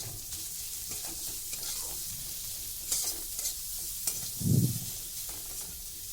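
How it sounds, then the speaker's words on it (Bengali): Onion and spices with salt and turmeric sizzle in a frying pan, a steady hiss with scraping stirs and a louder stir near the end, no talking. "মশলাটা কিন্তু ভাজা হয়ে গেছে,"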